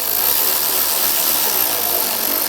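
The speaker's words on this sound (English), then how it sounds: "put that screw in here, get that started, and tighten that down" Power tool driving and tightening a screw on a fender bracket of a 2011-2018 Ram 1500, a steady continuous whir held close and loud for the whole stretch, with no talking.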